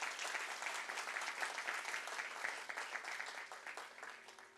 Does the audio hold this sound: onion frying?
no